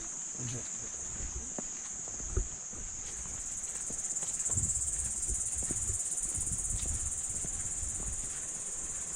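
Steady high-pitched cricket chirping fills the air continuously, with faint rustling and soft footsteps underneath on a forest trail near Jok Kradin waterfall, Thong Pha Phum National Park, Kanchanaburi, Thailand.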